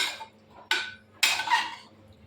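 A spoon stirs a fenugreek and jackfruit curry with ghee in a pressure cooker, making three distinct metallic scrapes in a quiet kitchen.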